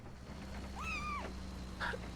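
A single drawn-out cat meow from the video game 1998: The Toll Keeper Story, soft and fairly close over a steady low background hum, with no talking.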